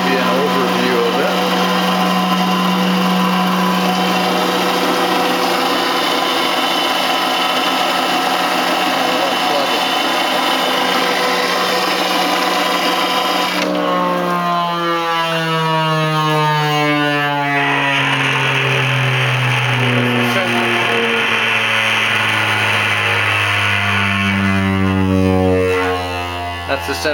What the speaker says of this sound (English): The centrifuge spinning down, and as you can see, the pressure is zero.